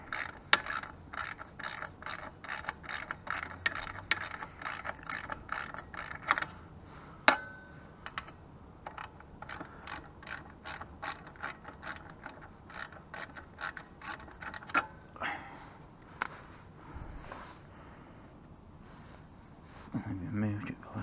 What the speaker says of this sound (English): So make a switch over to the ratchet, get both those bolts out.